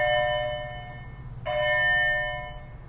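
A school bell rings in a classroom with two sustained, tonal strikes, the second starting after a short gap, each ringing out and slowly fading over a low background hum.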